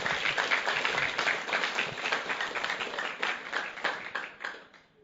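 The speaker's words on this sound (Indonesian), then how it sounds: "Beri aplaus untuk unicorn, luar biasa." An audience at a business meeting bursts into dense, continuous clapping that holds strong for several seconds before tapering off at the end.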